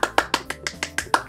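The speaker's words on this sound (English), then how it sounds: "I'm not going to stop clapping until 10 stop going on the screen." Rapid hand clapping with about nine sharp claps in a steady, quick rhythm, close and loud, with no talking.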